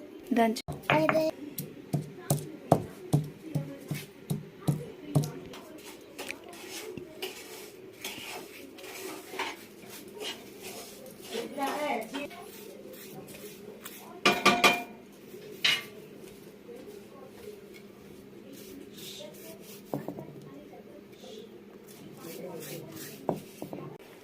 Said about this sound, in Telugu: ఇప్పుడు ఇలాచి దంచుదాం.